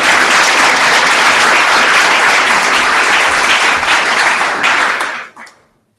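A conference audience applauds to welcome speaker Mike Rohde before a sketchnotes talk: dense, loud, sustained clapping from a large crowd that holds steady for about five seconds, then quickly dies away.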